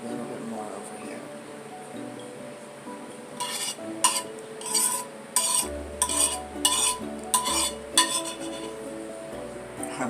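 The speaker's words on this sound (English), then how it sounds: "Sorry for the scraping noise" A utensil scrapes fig balsamic pan sauce from a pan after roasting pork loin, giving a series of clinks and scrapes close up that grow busier toward the end.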